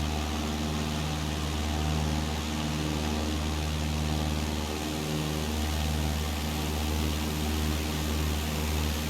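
A Cessna's propeller engine drones steadily and evenly in Microsoft Flight Simulator 2020 during cruise flight, with no talk.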